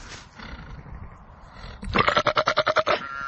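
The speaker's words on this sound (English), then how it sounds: "male sheep scare the hell out of me" A ram on a wintry hillside at dusk lets out a loud, close, pulsing bleat of about ten rapid throaty beats, following a stretch of quieter rustling and wind.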